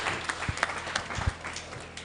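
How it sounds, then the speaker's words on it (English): Scattered applause from an audience at a school old boys' association convention, greeting a speaker with a short run of uneven claps that stays moderately loud and tapers off. "A round of applause for him, please."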